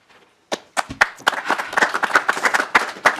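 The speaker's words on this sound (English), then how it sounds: "please hold your applause" Brief applause breaks out after testimony at a legislative housing hearing, a small group clapping quickly and unevenly at close range, beginning abruptly after a moment of near quiet.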